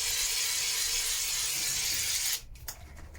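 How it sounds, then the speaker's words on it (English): A can of shaving foam sprays out in a loud, continuous close hiss, which then cuts off and is followed by a few faint rattling clicks as the can is handled. "So I'm going to give it a bit of a shake and spray."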